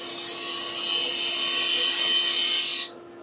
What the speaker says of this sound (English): I'm just going to now trim back to that bead with a parting tool